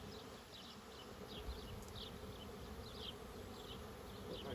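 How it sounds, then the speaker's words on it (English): A swarm of honeybees hums steadily at close range while a new package of bees is installed in a backyard hive, a continuous low drone with no talking. "Man, look at all those bees."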